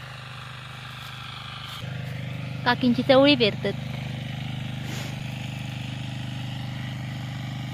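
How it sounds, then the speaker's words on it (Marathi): A tractor engine chugs steadily on a farm where cowpeas are being sown, a low continuous idle that grows slightly louder partway through as people talk nearby. "ते मोठे काका ट्रॅक्टर धरतात"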